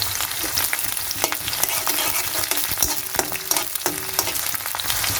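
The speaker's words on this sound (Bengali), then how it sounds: "দেখো বন্ধুরা পেঁয়াজ ভাজা হয়ে গেছে ফ্রাই হয়ে গেছে" Chopped onion frying in oil with bay leaf and dried red chilli, a steady close sizzle with scattered scraping stir strokes from a spatula, no voices.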